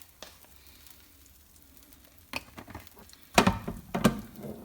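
Oil crackling and spitting in a frying pan while beef stir fry is cooked: quiet at first, then sharp sizzling bursts that grow louder and denser toward the end.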